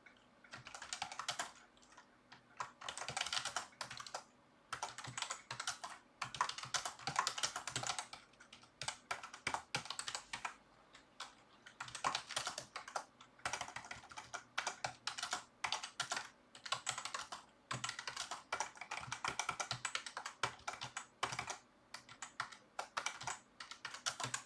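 Rapid bursts of typing on a computer keyboard, dense clattering keystrokes in irregular runs with short pauses, close and fairly quiet, with no talking.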